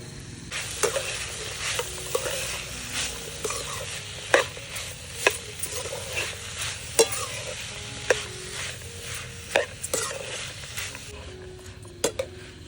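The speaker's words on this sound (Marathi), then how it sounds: "तसंच आता आपण भाज्या देखील परतून घेऊयात" Mixed vegetables for Bhogi bhaji are stir-fried on a wood-fired stove, with a continuous sizzle broken by regular sharp scrapes and clinks of a spatula against the pan.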